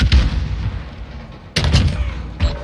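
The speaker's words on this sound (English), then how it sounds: "Stun grenade out." A stun grenade goes off in Call of Duty: a few loud close bursts and bangs with sharp onsets and a booming low end.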